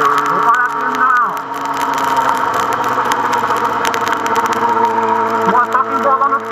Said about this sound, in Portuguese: O motor tá meio frio ainda.